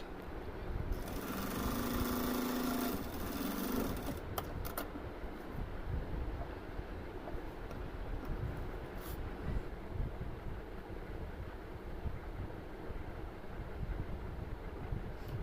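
A sewing machine runs continuously at close range, its rapid mechanical needle rattle steady while stitching the side seam of a dress, with a brief louder whir near the start.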